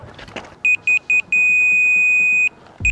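An electronic beeper on a house build site sounds in four short, evenly spaced high tones, then holds one long steady tone before cutting off, loud and close.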